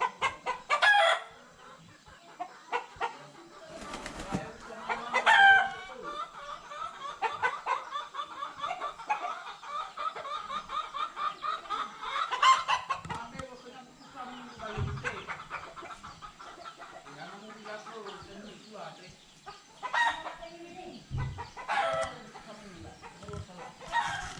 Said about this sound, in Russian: Сумасшедший петух.